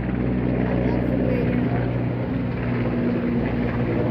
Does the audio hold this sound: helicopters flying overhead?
yes